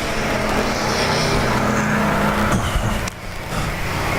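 Bomber-class race cars roar through a heat race at Arizona Speedway, with loud continuous engine noise from close by and a sharp shift in tone as a car passes.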